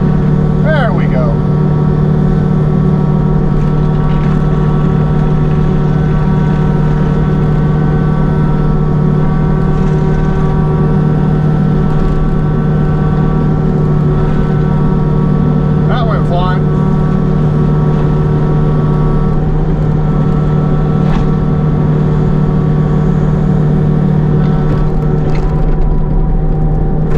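Engine of the Little Munchie machine, freshly repaired at a weld shop, runs at a steady idle for the whole stretch, a loud unbroken drone with a few faint knocks and clatters on top.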